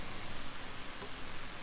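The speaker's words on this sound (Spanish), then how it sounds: "Y ahora agregaron lluvia." Steady rainfall in the survival video game The Forest, a soft continuous hiss of drops with no speech, heard alone and fairly quiet throughout.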